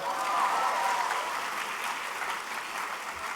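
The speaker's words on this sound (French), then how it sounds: "On peut applaudir." An audience at a lycée graduation ceremony gives steady, sustained applause, a dense wash of clapping from many hands that holds at an even level throughout.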